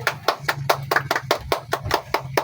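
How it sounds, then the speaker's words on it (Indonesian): A small group claps hands in a steady, distinct rhythm at the start of a podcast, about ten crisp, separate claps at close range, with low hum underneath. "Tepuk tangan."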